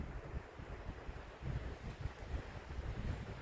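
Wind blows outdoors in open country where a tarp shelter is being pitched, producing a continuous, rough, gusty rumble against the microphone that swells slightly partway through, with no voices.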